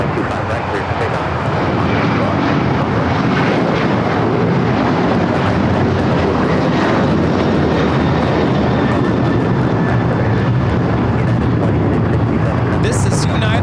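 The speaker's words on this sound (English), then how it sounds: "This is United Airlines 2667 taking off to Washington Dulles on the 737-900ER." A United Airlines Boeing 737-900ER taking off at LAX, a loud continuous jet engine roar holding steady throughout, close and powerful.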